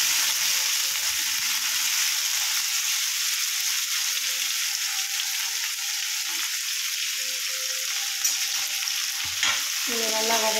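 Chopped onions sizzle and crackle steadily in a hot pan, a continuous close frying hiss with occasional stirring scrapes near the end.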